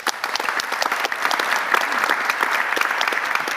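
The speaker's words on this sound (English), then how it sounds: "Let's have a big round of applause for you now." Audience at a panel discussion on healthy city planning claps in a steady, full round of applause that fills the whole stretch without pause.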